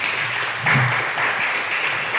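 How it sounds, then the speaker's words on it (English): Applause from a youth summit audience for a speaker: a steady, dense wash of clapping from a crowd that swells briefly near the middle and stays loud throughout. "a round of applause for him again."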